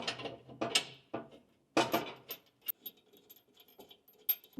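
A ratchet tightens the front skid plate bolts into the tow hook mounts on a 2024 Ford Ranger, giving short bursts of clicking that stop and start, close by with no talking.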